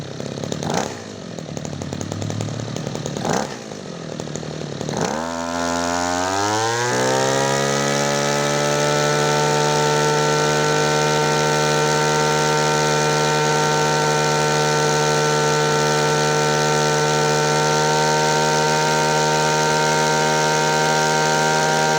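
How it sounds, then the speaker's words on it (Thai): A Robin NB2510 two-stroke brush cutter engine is pulled over a few times, then catches and revs up into a loud, steady high-pitched whine that holds close by. "เสียงเขาจะบึมบึมบึมบึมบึมบึมนะครับ เสียงเขาจะสุภาพนุ่มนวล แต่เวลาเร่งเครื่องไม่ธรรมดาครับ"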